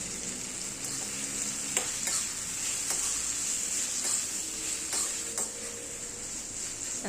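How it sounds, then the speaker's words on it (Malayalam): Roasted chickpeas fry in hot oil, giving a steady close sizzle with occasional light scraping stir strokes and no voices. "ഇപ്പോൾ പൊട്ടുകടല നമുക്കൊന്ന് മൂപ്പിച്ചെടുക്കാം."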